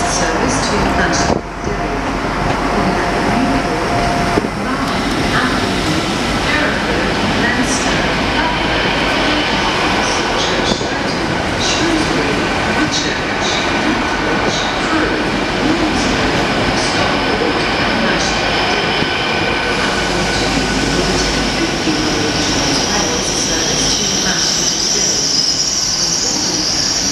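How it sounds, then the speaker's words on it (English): A train rumbles and clatters loudly as it arrives at a platform in Neath station, Wales, with wheel squeals and hiss, continuous for a long stretch with faint voices underneath. "The next train to arrive at platform 2"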